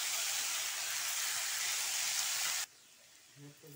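Potatoes fry in a pan with a loud, dense, close sizzle that cuts off abruptly, followed by quiet room tone and a faint voice.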